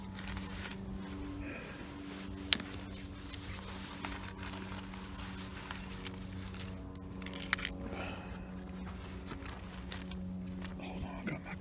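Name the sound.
vehicle keys jangling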